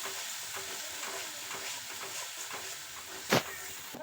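Spices, meat masala and salt for a broccoli dish stirred together in a pan, soft scraping strokes over a faint sizzle, with one sharp knock near the end, quiet and close.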